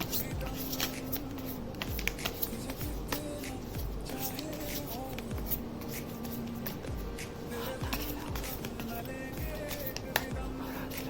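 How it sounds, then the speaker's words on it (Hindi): Tarot cards are shuffled by hand in quick, repeated riffles and slides, a close, steady rustling flutter running through the whole stretch. "मैं फिर से शफल करके निकाल रही हूँ पाइल 2 के लिए।"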